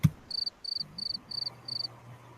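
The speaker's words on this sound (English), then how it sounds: "sound of crickets." Five evenly spaced bursts of high, pulsing cricket chirps repeat steadily over a quiet low background hum.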